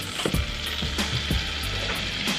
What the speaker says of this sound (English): And we're gonna whisk this in here.